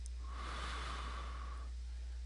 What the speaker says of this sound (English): That's me breathing in deep.